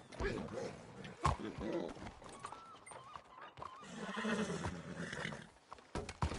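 A horse in a Red Dead-style open-world video game lets out a loud whinny, with clip-clop hoof sounds and someone speaking over the action.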